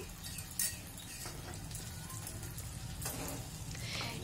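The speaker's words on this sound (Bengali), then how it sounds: "এইভাবে দইয়ের পেস্টটাকে আমরা খুব ভালো করে মিশিয়ে দিচ্ছি" Yogurt paste being stirred into new-season potatoes for aloo dum in a frying pan, with soft sizzling throughout and occasional clinks of a utensil against the pan, close and steady.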